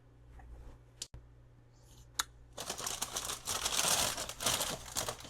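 A paper bag holding cookies crinkles and rustles loudly and close for the last half, after a few sharp isolated clicks and handling noises in a quiet room.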